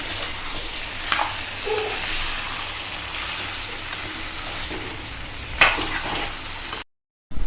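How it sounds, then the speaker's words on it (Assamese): Ingredients with fried potatoes sizzle steadily in a hot pan while being stirred, a continuous frying hiss with soft scraping of the spoon and a brief sharper clatter near the end, no talk. "ধুনীয়াকৈ আমি আকৌ এবাৰ গোটেইখিনি বস্তু ভালদৰে লৰাই দিম"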